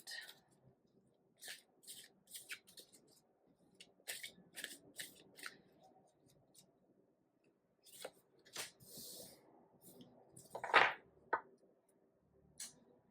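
Tarot cards shuffled by hand during an all-signs new moon in Virgo reading: soft papery riffles and flicks in short bursts, quiet and close, with scattered pauses and a sharper snap near the end.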